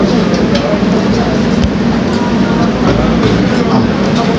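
A subway train at Daebang station roars loud and steady, a dense rumbling wash of wheel and engine noise with faint rattles running throughout, and a voice is partly buried under it.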